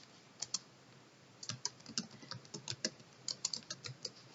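Irregular keystrokes on a computer keyboard while field names are entered into a database table, sounding as close, crisp clicks in uneven bursts over a quiet background, with no speech.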